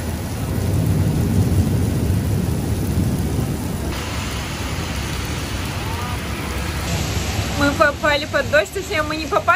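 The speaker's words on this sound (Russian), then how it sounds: "очень сильные молнии и дождь, ливень просто" Thunder rumbles through a steady downpour of heavy rain in a New York lightning storm, loud and broadband throughout, with people talking over it near the end.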